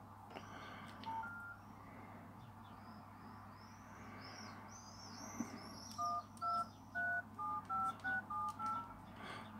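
Keypad tones from a Nokia 7373 mobile phone: a run of short, evenly spaced beeps as keys are pressed one after another, preceded by a few scattered single tones over a quiet background hum.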